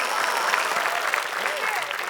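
A studio audience at a TV quiz show applauds continuously, a dense, even wash of clapping that holds at full strength throughout.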